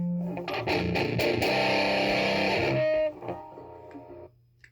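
Electric guitar through a distortion pedal strums a few loud, gritty chords, then rings out and fades to quiet.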